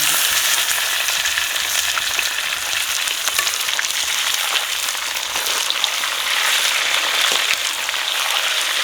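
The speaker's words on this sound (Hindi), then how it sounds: "प्याज भी हमारी ब्राउन होगी और लहसुन भी हमने साथ में डाल दिया था" Onions and whole-cut garlic fry browning in a pan for a chicken and spinach curry, a dense continuous sizzle with faint scraping and crackle throughout, no voices.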